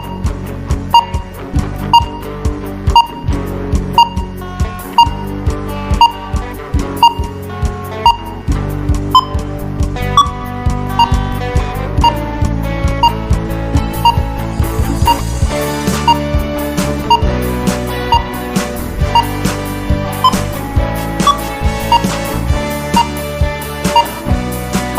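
Thirty-second countdown timer on an educational radio lesson, steady repeating beeps over a rhythmic musical backing, loud and continuous with no talk.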